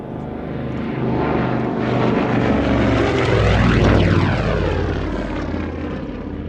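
A propeller-driven Avro 19 passes overhead at Old Warden, its engine drone swelling loud as it nears, sweeping in pitch as it goes by, then easing off, steady and continuous with no talk.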